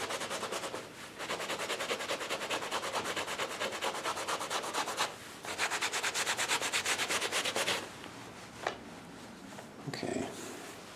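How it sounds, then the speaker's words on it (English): A leather Indiana Jones style jacket is scrubbed near the seam to weather it, producing loud, continuous rhythmic rasping strokes up close that pause briefly and then resume. "Scrub that pretty good right there in there."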